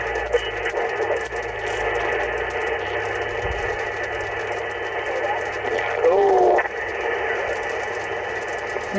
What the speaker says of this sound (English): it's either a solar flare or some kind of static rain.